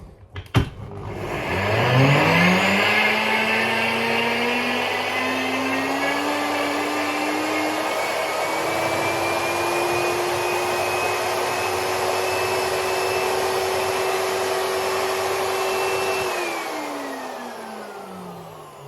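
A Nutribullet Balance blender motor whirs up to speed, holds a loud, steady high whine for several seconds, then winds down and stops.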